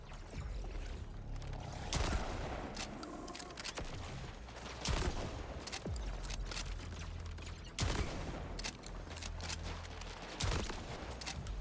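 Shotgun gunfire in a video game: several sharp, loud blasts spaced a few seconds apart stand out over a busy, dense game soundscape.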